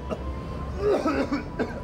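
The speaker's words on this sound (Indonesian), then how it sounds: "Batuk lu tambah parah." A few rough coughs sound close by, short and throaty, spread over a couple of seconds against a quiet background.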